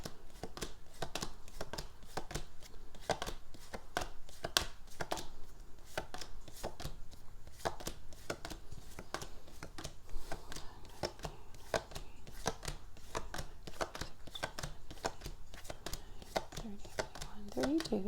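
Tarot cards handled and counted one by one, giving a steady run of crisp, quick card flicks and taps across the whole stretch, fairly close and even in loudness, with a voice talking over them.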